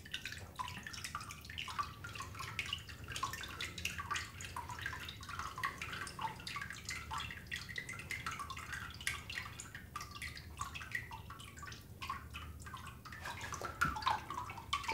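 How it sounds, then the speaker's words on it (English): Water trickling and dripping steadily from a papermaking screen and deckle, a close, continuous patter of small splashes with no talking. "we're gonna let all that water drip out."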